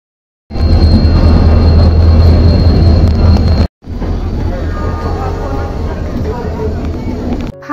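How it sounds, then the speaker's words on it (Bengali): The Kanyakumari Express, running Kanyakumari to Howrah, pulls into an Indian railway station with a loud, steady rumble that breaks off briefly and then continues at a slightly lower level. "ফাইনালি কিন্তু আমাদের ট্রেন এসেছে, কন্যাকুমারী এক্সপ্রেস"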